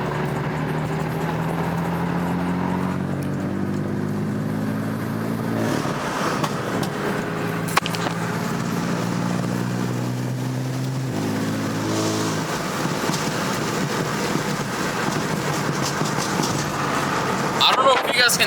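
A BMW M4 with a flame tune revs on a back road, its engine climbing in repeated rising sweeps and dropping back, loud and close, with a voice talking over it at times.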